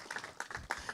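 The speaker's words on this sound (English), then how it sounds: "Another round of applause, please" An audience at a tech talk on AI in government technology gives a short round of applause: faint, scattered hand claps in an uneven patter, heard from a distance.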